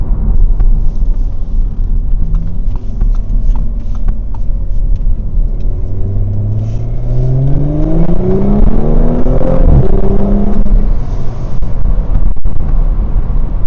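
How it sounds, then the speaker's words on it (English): An Audi S5 with the factory sport exhaust drones and then revs up while driving, its rising engine note sweeping upward before settling, loud and close inside the car with no talking. "Now I do have the sport exhaust, but still OEM exhaust. It's not too loud,"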